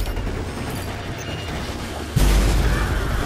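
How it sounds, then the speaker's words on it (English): A logic bomb goes off in the video game Remember Me as a sudden deep boom, and a loud rumbling blast continues after it over the game's background effects. "I'll give you a logic bomb."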